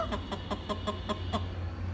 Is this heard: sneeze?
no